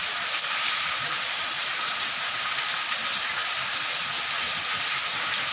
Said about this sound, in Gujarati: ધોધમાર વરસાદની એન્ટ્રી જોરદાર એન્ટ્રી મારી છે પાણી પાણી કરી દીધા છે